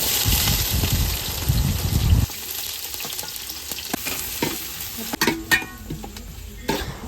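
Shallots dropped into hot coconut oil with spluttering mustard seeds sizzle loudly at first, then settle into a softer crackle broken by sharp pops and occasional clinks of a stirring spoon.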